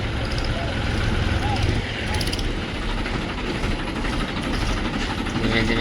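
A tractor engine runs loudly and steadily close by, a dense continuous rumble and drone with no pauses, heard on a rural trip.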